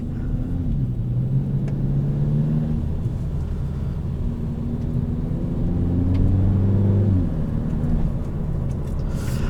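A 2021 Kia Forte GT with a dual-clutch transmission pulls away from a stop, its engine a low steady rumble heard from inside the cabin, rising gently in pitch as it gains speed, with no talking.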